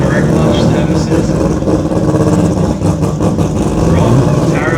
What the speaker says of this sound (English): Both cars moving forward now